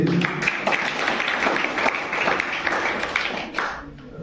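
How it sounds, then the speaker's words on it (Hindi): Schoolchildren clap together at a school farewell program, a dense, steady patter of many small hands lasting several seconds before tapering off near the end. "तालियां बजाएं बच्चे।"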